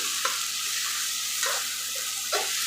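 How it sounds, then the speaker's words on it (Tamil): Onion and tomato sautéing in an oiled pan for wheat samba upma, a steady close sizzle with three distinct stirring scrapes of the spoon spaced through it, no voices. "அதையும் இதிலையே சேர்த்துட்டு நல்லா வணக்கிக்கலாம்"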